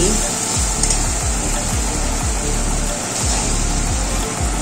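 Fried eggs go into a hot, sizzling spice masala in a pan, giving a loud continuous sizzle with soft rhythmic stirring or scraping thumps underneath.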